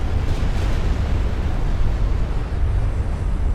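A heavy, rumbling roar from a warship's flash fire explosion in Ultimate Admiral: Dreadnoughts, a thick low-end blast with a sustained churning tail, loud and unbroken.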